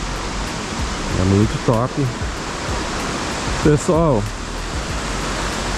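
Steady roar of Cachoeira do Escorrega, a waterfall in Sana, Macaé, as a broad continuous rush filling the whole scene, with someone talking briefly over it twice.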